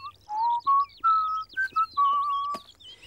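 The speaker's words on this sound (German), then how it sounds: "Pfeifen ist einfach praktisch." A person whistles a short, lively tune of clear, high, bright notes, some held and some clipped, close and alone with no talk.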